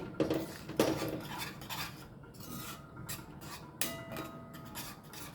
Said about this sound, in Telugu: ఇట్లా చిన్న చెంచుతోనే కలుపుతా చూడండి